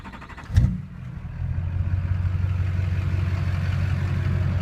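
An LB7 Duramax diesel truck with a 3-inch downpipe into a 5-inch MBRP straight pipe and 7-inch tip cranks and fires with a sharp burst, then settles into a loud, steady, deep rumbling idle.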